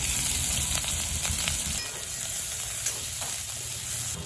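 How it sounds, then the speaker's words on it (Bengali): A few cumin seeds crackle and sizzle in hot oil for tempering, a dense, close frying hiss with small popping bursts and a scrape of stirring. There is no talking. "তেলটা গরমই আছে, অল্প কয়েকটা জিরে ফোড়নে দিলাম।"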